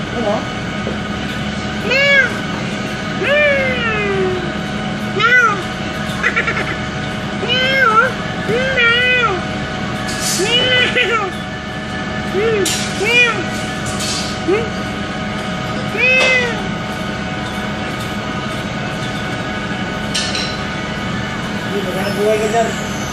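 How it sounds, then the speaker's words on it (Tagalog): Repeated short meows go on over a long stretch against a constant mechanical drone, some loud and some fainter, with speech-like sounds mixed in. "Meow! Meow! Meow!"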